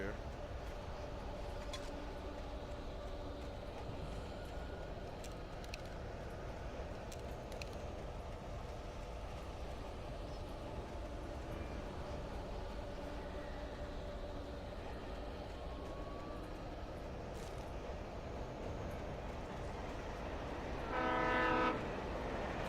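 Train in Alan Wake rumbling steadily at a distance for a long stretch, a low continuous roll with a short horn blast near the end.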